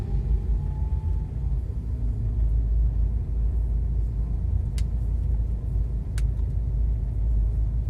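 Traffic rumbles along a national road in Java where old, rickety lorries drive slowly, a constant low heavy drone of passing vehicles with a couple of brief sharp clicks, no voices.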